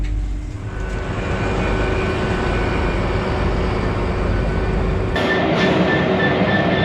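At Inverness station, the Caledonian sleeper train to Euston rumbles loudly as a steady, close low drone with a faint whine. Near the end the tone shifts and a high hiss enters.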